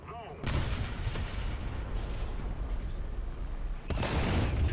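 Heavy cannon fire from the Dicker Max tank destroyer in the War Thunder video game: a loud boom that rolls into a long, dense rumble, then a second sharp blast near the end, with a voice talking underneath.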